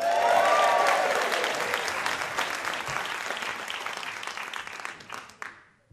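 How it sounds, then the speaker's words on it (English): Audience applause at a live puppet comedy show, a dense burst of clapping that starts loud, stays steady for several seconds, then cuts off sharply near the end. "Sorry, just one little note about that applause."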